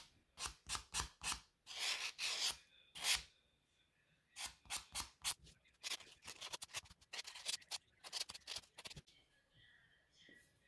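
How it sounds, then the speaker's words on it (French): A nail buffer polishes a gel nail in quick, rhythmic rubbing strokes, close and crisp, coming in bursts with short pauses between them and no talking. "je viens finir le polissage avec mon buffer"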